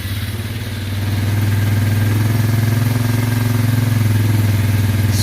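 A Suzuki Ozark 250 ATV engine runs close and loud after starting, settling into a steady, throbbing idle with a rhythmic low pulse throughout.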